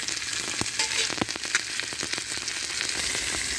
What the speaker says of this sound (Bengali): মাথা ভাজা হয়ে গেছে, এবারে আমি উঠাই নেব।